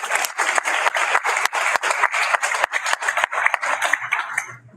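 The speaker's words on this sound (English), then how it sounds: "So clap it up for you and our students." An audience at a board of education meeting breaks into applause, a steady wash of many hands clapping that carries on for several seconds before fading out near the end.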